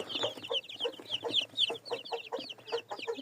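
Young chicks peep in a brooder under red heat lamps, a quick run of bright, chirping calls repeating close by with no talk.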